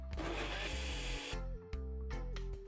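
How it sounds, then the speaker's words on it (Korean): A kitchen blender grinds onion and green onion with water for kimchi, its motor whirring steadily at close range and changing pitch a few times as the blades churn through the mixture. "양파 1개, 대파 1개와 물을 넣고 갈아줍니다."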